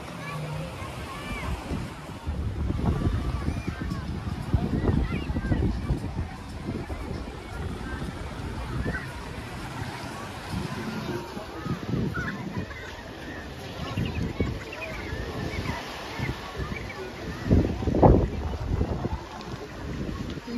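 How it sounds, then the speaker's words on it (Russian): Gusty wind rises at the seaside in Lazarevskoye near a pool, buffeting the microphone in uneven rumbling swells over faint water and background voices. "Все, поднялся ветер."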